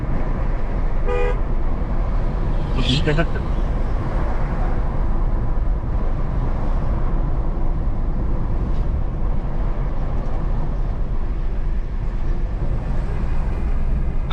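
Car horns toot a few short times amid steady road traffic on a drive between Savar and Nabinagar, heard over the constant rumble of a moving vehicle.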